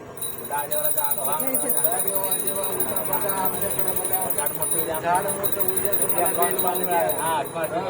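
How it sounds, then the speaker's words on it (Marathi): A small hand bell rings in rapid, steady strokes throughout a bel tree puja while a voice chants or talks over it. "घंटे हातामध्ये घंटे आपल्या वाजवा आपल्या हाताने वाजवा"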